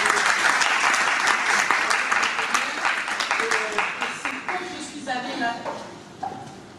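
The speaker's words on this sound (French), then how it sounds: "Je crois qu'on peut l'applaudir" Audience applause at a Cameroonian event honouring a new graduate, steady dense clapping that thins toward the end with a voice speaking over it.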